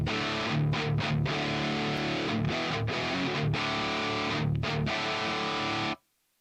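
Heavily distorted electric guitar through an Amped ML Plexi amp plugin, tuned for a modern tone with two green-type speakers, playing loud, dense chugging riffs with brief rhythmic gaps before cutting to silence.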